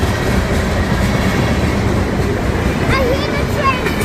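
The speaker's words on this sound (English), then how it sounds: "I hear the train the whole time." A passing train gives a steady, loud rumble of rolling wheels close by, with a few squeals near the end and voices talking over it.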